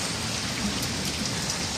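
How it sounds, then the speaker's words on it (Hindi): Heavy rain pours down outdoors in the hills at Nathia Gali, a dense, steady hiss close by that runs without a break. "भी तो बारिश बहुत तेज़ है, बहुत तेज़ बारिश है।"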